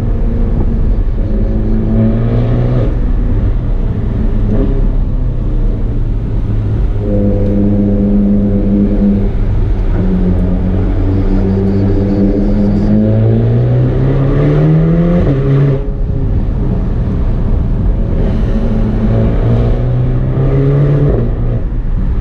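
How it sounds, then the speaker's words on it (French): A Ferrari Portofino engine drones loudly through its exhaust, revving up in rising pitch sweeps, dropping back, then climbing again. "Tu vois le son aussi que ça fait à l'échappement"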